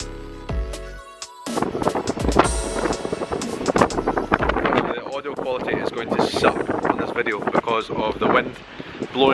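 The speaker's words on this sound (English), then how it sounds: "It's blowing an absolute gale outside." Gale-force wind buffeting an outdoor microphone, producing loud rumbling crackle and gusty roar, with a person talking over it throughout.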